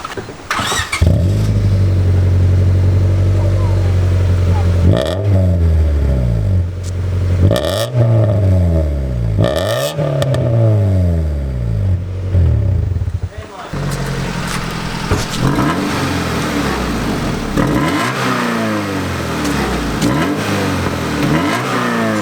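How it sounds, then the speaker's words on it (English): Honda Civic fitted with a new aftermarket exhaust, revved repeatedly in loud, raspy bursts that climb and drop, close by, with voices talking over the engine. "we just got done putting on the exhaust right now,"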